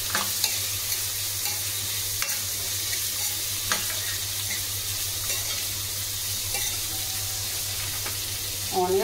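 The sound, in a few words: finely chopped onions frying in a pan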